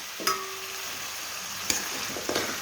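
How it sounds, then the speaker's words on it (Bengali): Cut cauliflower goes into a pan of chicken curry with kohlrabi and well-fried spice paste, giving a continuous close oil sizzle with a few sharp spatula clicks and scrapes. No voices. "এখন আমি দিয়ে দেবো কেটে রাখা ফুলকপিগুলো।"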